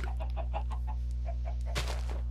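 Chickens clucking in the video game Minecraft, a series of short soft clucks spaced irregularly over a steady low hum, ending with a brief brighter rustle, no talk.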